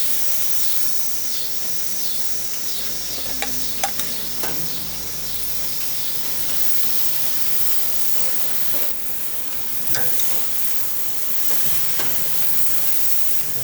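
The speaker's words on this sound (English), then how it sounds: "I'm going to take some pieces off the top here and lay them oil side down onto the hottest part of the grill" Oiled pieces of steak sizzle loudly on the hottest part of a grill, a steady bright hiss with occasional crackles and pops as more pieces are laid down.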